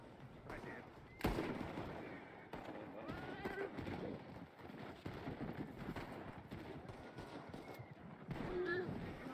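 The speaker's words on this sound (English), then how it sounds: "Gunshots." Gunfire crackles through a firefight in the Red Dead roleplay video game, with sharp reports, the loudest near the start and more toward the end, mixed with scattered game ambience and voices talking over it.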